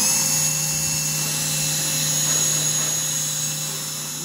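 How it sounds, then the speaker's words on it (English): A power drill boring a small pilot hole at a marked center point before a rivet nut install, a steady high-pitched whine held loud and close for several seconds, tapering slightly at the end. "When it comes to drilling the holes, I like to start it with a small pilot hole"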